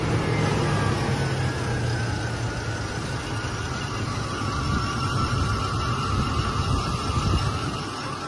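A 1989 Cadillac Brougham with a 5.0 (350) V8 runs steadily with a constant, loud, broadband hum and no clear revs or pauses.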